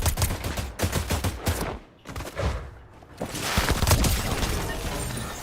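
Rapid bursts of gunfire from a new weapon in Fortnite, crackling in quick repeated volleys with short pauses, then a steadier stretch of shooting and booming game noise.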